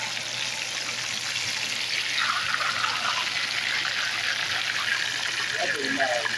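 Water pours steadily into a cooking pot, a continuous rushing, splashing stream that rises slightly in level partway through and keeps running throughout.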